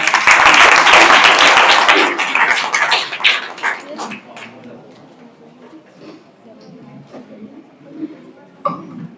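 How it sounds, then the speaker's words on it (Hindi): Applause from a crowd at a Bahujan community gathering, greeting an advocate as he comes to speak: a loud burst of many hands clapping for about three seconds, then thinning and fading as talk takes over. "एडवोकेट के गौतम सर के लिए जोरदार तालियां।"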